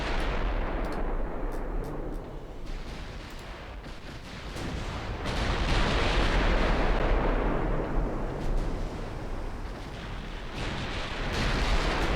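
Heavy naval gunfire from the battleship Warspite's 15-inch guns in a naval war game, a continuous rumbling roar of shelling and distant detonations swelling and fading, loud and dense.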